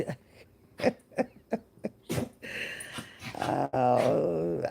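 A dog gives a short series of rough, choked barks and coughing growls, several sharp bursts close by, followed by a longer strained whining vocalisation near the end.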